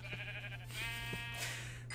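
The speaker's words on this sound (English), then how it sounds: "Let's kill a sheep." A sheep bleats in Minecraft, a drawn-out wavering baa over a steady low game hum, fairly close and clear, with no talk over it.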